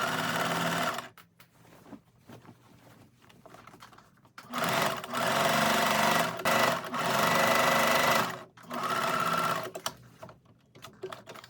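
A sewing machine top-stitches the waistline of a denim dress, running in several close, steady bursts of whirring stitching separated by short pauses, with quiet handling between runs.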